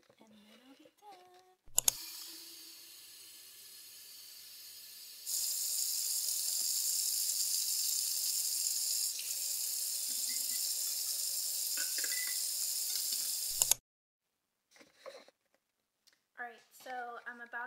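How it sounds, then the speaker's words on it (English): A tap runs into a sink while esthetician tools are washed, a steady hiss that starts with a click, grows stronger partway through and cuts off with another click, with someone talking briefly before and after. "I'm about to wash my tools"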